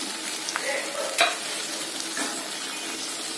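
Shrimp, tomato and capsicum fry in a pan, a steady close sizzle with a few light stirring scrapes and clinks, continuous and moderately loud with no talking.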